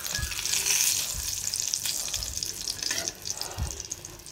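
Pointed gourd (potol) frying in hot oil in a home kitchen, a steady close crackling sizzle with a few louder bursts, heard alone without talk.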